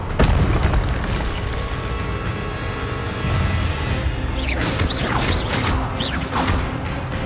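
In the Hogwarts Legacy video game, an Incendio fire spell goes off with a sharp booming blast and a rumbling roar, followed by crackling, whooshing bursts of flame and magical effects.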